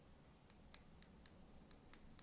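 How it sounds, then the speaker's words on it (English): A fidget cube's plastic pen-style buttons give a series of about eight faint, crisp, high clicks at a quick uneven pace, close up, with no talking. "This is supposed to replicate the clicking in a pen. I believe there's three buttons that are audible,"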